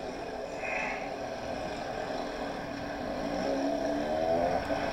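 A motorcycle engine revs and accelerates while riding in the narrow lane between traffic, a steady close engine drone whose pitch climbs toward the end.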